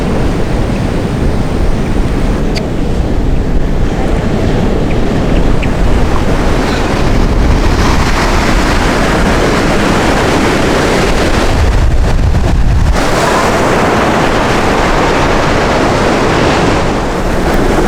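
Caribbean Sea surf and steady wind where the sea meets the Rio San Salvador near Palomino, Colombia; a continuous loud roar of waves with heavy wind buffeting the microphone throughout.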